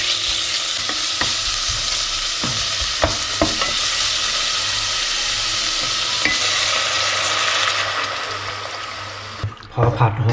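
Shallots and garlic stir-frying in a pan, then pork neck added, giving a loud, steady sizzle with repeated utensil scrapes and knocks; the hiss fades near the end as a voice speaks.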